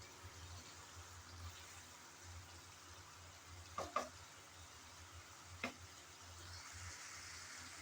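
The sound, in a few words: okra added to frying spices and prawns, sizzling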